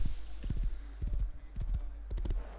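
Horse hooves clip-clop in the video game Rust, a steady close rhythm of paired thuds over a low rumble and faint background noise.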